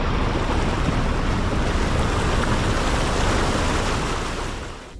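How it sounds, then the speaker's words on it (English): Car drives into a flooded river during heavy rain, a dense, loud wash of rushing water and wind noise filling the whole clip and easing slightly at the end, with no voices. "I'm going to drive the car into the river."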